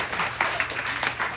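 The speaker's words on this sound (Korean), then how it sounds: "우리 손뼉을 한번 박수를 한번" A church congregation at a Sunday afternoon service claps briefly together in a soft, diffuse burst of applause heard from within the room.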